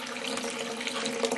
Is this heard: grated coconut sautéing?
no